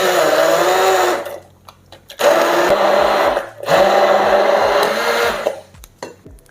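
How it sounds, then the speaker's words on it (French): A blender purees chicken livers with cooking juices of white wine and port, whirring loudly in three bursts separated by short pauses and a few knocks between runs. "On va commencer à mixer nos foies."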